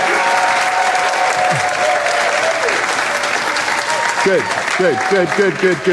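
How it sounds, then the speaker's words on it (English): Sustained loud audience applause at a social media training event, steady dense clapping throughout with some voices and whoops rising above it. "give yourselves a massive round of applause"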